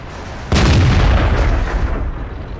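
A tank main gun fires a single shot in World of Tanks, one sudden loud boom with a heavy low-end blast that rolls on and slowly decays over about two seconds.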